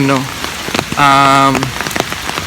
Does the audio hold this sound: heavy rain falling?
yes